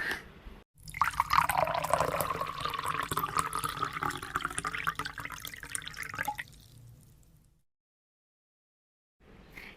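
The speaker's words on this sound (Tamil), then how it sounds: "முதலாவதாக இந்த இளநியில் இருக்கிற அந்த தண்ணியை மட்டும் நம்ம தனியாக எடுத்துக்கொள்ளலாம்" Water from a large tender coconut pouring into a container, a continuous splashing trickle for several seconds that stops abruptly, then quiet.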